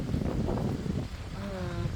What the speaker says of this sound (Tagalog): Tingnan nyo naman yung lakas ng hangin na i-stress yung mga halaman.